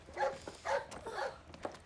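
A dog barks and whimpers indoors at home, a few short close yaps in quick succession with no talking.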